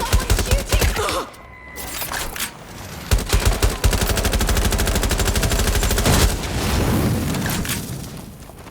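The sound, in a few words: gunfire in video game Watch Dogs Legion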